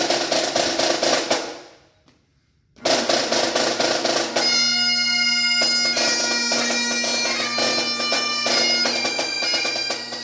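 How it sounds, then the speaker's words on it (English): Bagpipes played by police officers, a loud sustained drone with bright reedy melody lines, broken by a short gap of near silence before the full band resumes and keeps playing steadily. "police officers who've taken the time to learn how to play one of the most difficult instruments imaginable, the bagpipes"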